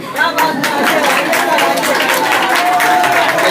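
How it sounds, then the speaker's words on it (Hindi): Audience applause at a lecture event, with steady clapping and chatter, a dense continuous patter from many hands filling the space. "आइए उनके इस्तेकबाल नारे से, हो सॉरी, तालियों से करें।"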